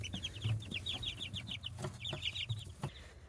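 Chickens, both roosters and hens, cluck in rapid repeated bursts close by, with a few sharper squawks and some rustling in a farm shed.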